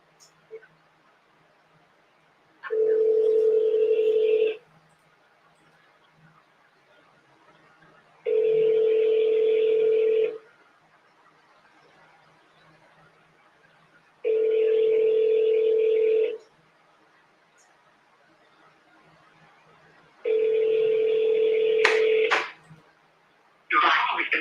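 Telephone ringback tone on an outgoing call, four long steady rings separated by silent gaps, loud and clear with no talk over them, a brief click at the end.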